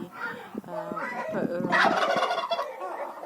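A domestic turkey in a poultry yard gobbles loudly and nearby, a rapid warbling burst of throaty calls repeated over a few seconds.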